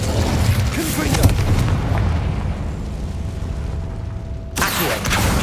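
A Confringo blasting spell goes off in Hogwarts Legacy, a loud booming burst with rumbling low end that rolls on for a few seconds, followed by a second sharp blast near the end, under continuous game sound.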